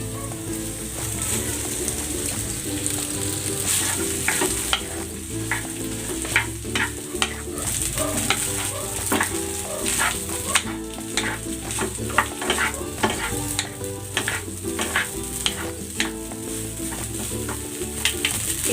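Cold leftover rice is stir-fried in a pan with a little pepper, giving a steady close sizzle broken by repeated scraping and stirring strokes of the utensil throughout.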